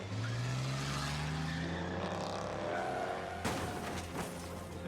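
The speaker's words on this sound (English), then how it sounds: "Tie the vault to a car door and drive down the street." A car in the video game Shadows Over Loathing drags a heavy vault down a street, its engine revving up in a rising whine with tire skids and a clatter near the end, loud and steady throughout.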